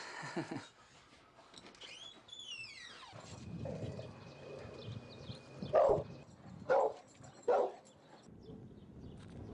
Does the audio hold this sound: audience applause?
no